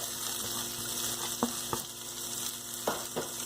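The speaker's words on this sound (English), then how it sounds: "Give a nice stir and you have to mix it very nicely." Vegetables with garam masala and chopped coriander are stirred in a hot pan, a steady sizzle running throughout while a spoon knocks and scrapes the pan a few times, close and with no talking.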